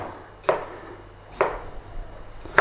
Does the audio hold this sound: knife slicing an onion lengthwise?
yes